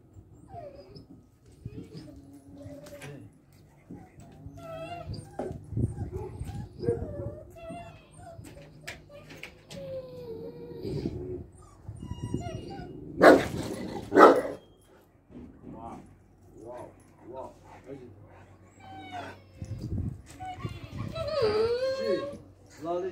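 A dog barks, yips and whimpers in bursts across a noisy outdoor scene, mixed with people talking throughout and other scattered background sounds.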